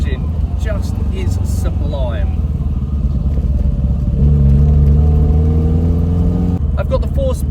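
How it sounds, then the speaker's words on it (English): A 1971 Lotus Elan drophead coupe's 4-cylinder twin cam engine with 4-speed manual gearbox revs steadily, its pitch climbing through the middle as it builds, with a voice talking over the engine near the start and end. "That 4-cylinder twin cam engine just is sublime."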